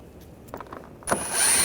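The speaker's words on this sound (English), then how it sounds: "Using a T25 socket, take these screws out." A ratchet fitted with a T25 socket backs out screws on a 2009-2017 Volkswagen Tiguan, heard as a few quiet clicks followed by a brief, brighter burst of rapid ratcheting, close and alone.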